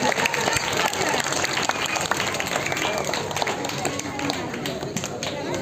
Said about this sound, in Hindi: एक बार जोरदार तालियां सुनील बाबा के लिए